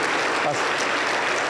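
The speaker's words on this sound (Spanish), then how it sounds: "Aplauso para el Señor Jesús." Applause from a Pentecostal church congregation in Junín, Peru, a steady dense wash of clapping under a short spoken word.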